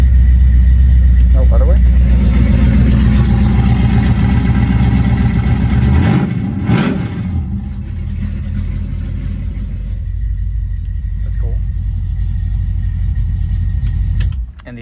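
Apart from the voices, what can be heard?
1969 Mercury Cougar convertible engine starting and running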